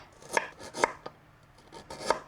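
Knife chopping galangal on a cutting board in a home kitchen, four crisp separate chops spaced unevenly, close and clear with no talking.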